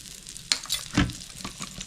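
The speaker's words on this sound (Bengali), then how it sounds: "কড়াই গরম হয়ে গেছে, আমি 1 চামচ বাটার দিয়ে দিচ্ছি।" A spoonful of butter sizzles in a preheated wok on a gas stove, a short crackling hiss with a couple of sharper spits, close and alone.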